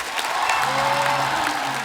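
A studio audience applauds steadily to welcome the cast of Gangs of Wasseypur onto a comedy talk show stage, dense clapping with a few faint cheers filling the whole moment.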